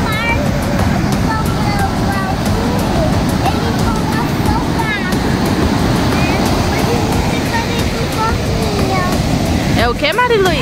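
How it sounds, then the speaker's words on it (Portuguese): Rough, agitated sea waves and surf roll continuously and loudly at a beach at sunset, with wind noise buffeting throughout and a voice briefly rising near the end. "o mar tá agitado hoje"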